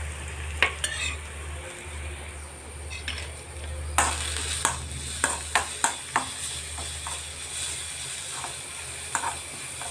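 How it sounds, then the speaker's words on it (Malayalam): Beetroot thoran sautéing in a pan, with a steady close sizzle and a string of sharp spatula taps and scrapes against the pan, denser in the second half; no talking. "ഒരു മിനിറ്റ് നമുക്കിതൊന്ന് വഴറ്റിയെടുക്കാം"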